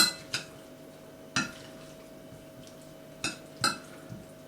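Occasional clinks of a utensil against a bowl as potato salad is stirred, a few sharp taps spaced apart over a quiet background.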